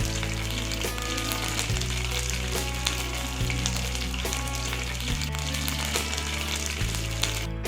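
Curry leaves frying in hot oil until crisp, producing an unbroken, vigorous crackling sizzle heard close up throughout, with a faint steady tonal hum underneath.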